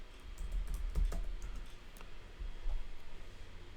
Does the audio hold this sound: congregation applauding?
no